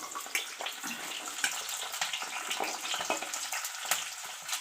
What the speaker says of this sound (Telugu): నూనె కాగుతుంది కదా నూనె ఎగేటప్పుడు చూడండి ఎర్రగడ్డలు వేసుకోవాలి